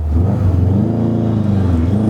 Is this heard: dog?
no